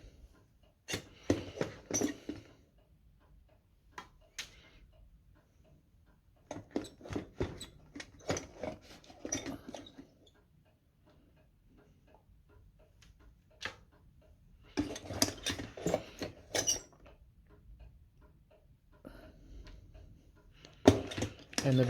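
Scoops of cooked rice lifted from a non-stick rice cooker with worn Teflon come in clustered bursts of clattering, scraping knocks separated by quiet pauses, close and fairly light.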